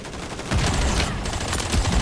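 Rapid bursts of automatic gunfire in the video game Warzone, dense and continuous, loud and close with no speech over it.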